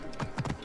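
Horse hooves clop faintly in Assassin's Creed Origins, a few soft, quick thuds in an uneven rhythm.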